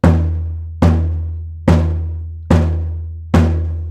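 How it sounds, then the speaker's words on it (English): Five deep, booming open bass strikes on the centre of a gong drum with a curved stick, spaced evenly about a second apart, each ringing out with a long low resonant decay before the next hit. "the open bass tones called caw or quao are strikes right in the center with a curved stick"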